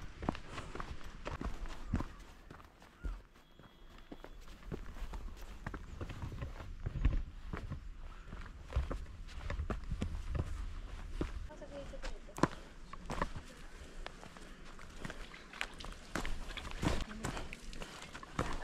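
Footsteps climb stone stairs at a hill fort, a steady run of light scuffing taps over outdoor background noise, with a person talking at times.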